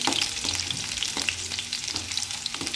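Green chillies frying in oil for a chutney while being stirred, a continuous sizzle with scraping stir strokes recurring at a steady pace, close and unaccompanied by voices.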